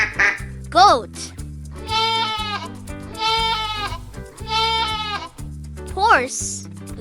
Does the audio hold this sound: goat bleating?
yes